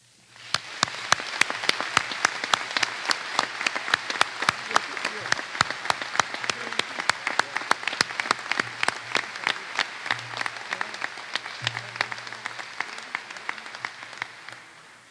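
An audience at the Delta Council annual meeting applauds to congratulate a student, many hands clapping steadily for about fifteen seconds, with a faint voice heard under it before the clapping fades.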